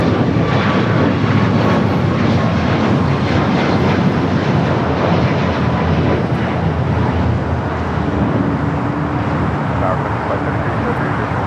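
An Air Canada Boeing 737 MAX 8 jet at LAX produces a steady, loud engine roar that holds throughout, with wind and distant traffic-like rumble underneath.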